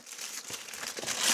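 Tin foil crinkled and handled up close, a steady run of crisp rustling and crackling that swells louder toward the end, with no talking.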